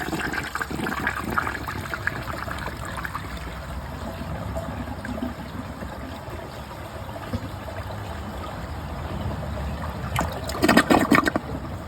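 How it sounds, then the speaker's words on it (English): A 1968 American Standard Cadet toilet flushes with a steady rushing, gurgling wash of water that runs for several seconds and surges louder near the end, close and with no voices. "So with another flush, it should get everything out of the bowl."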